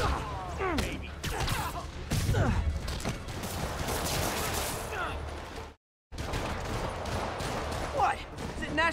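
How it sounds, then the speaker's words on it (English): Rockets fired at Spider-Man in Spider-Man Remastered game combat, a dense stretch of blasts, crashes and mechanical clatter with a brief cut of silence midway, heavily layered and under talk. "More rockets? A little excessive, don't you think?"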